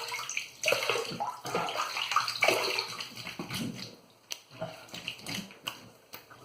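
Tap water runs steadily into a basin for rinsing after a wet shave with a boar brush, a close, continuous splashing that eases off toward the end, broken by small knocks and drips.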